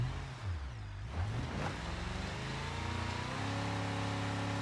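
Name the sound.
car engine straining uphill in a video game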